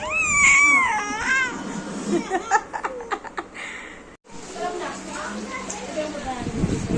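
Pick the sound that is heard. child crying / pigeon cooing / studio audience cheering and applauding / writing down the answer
child crying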